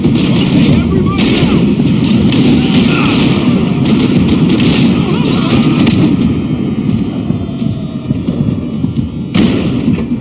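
Dense, loud gunfire from the video game Max Payne 3, rapid continuous shots and thuds filling the whole stretch with barely a pause, with game dialogue mixed in.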